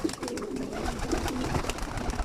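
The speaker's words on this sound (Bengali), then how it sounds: "এগুলো হচ্ছে আমার সব ব্রিডিংয়ের নরকবুতর এখানে আমি ব্রিডিংয়ের মেল কবুতরগুলোরে গোসল দিব" Male breeding pigeons coo in soft, throaty, overlapping calls, close by and continuous, against a busy background with no speech.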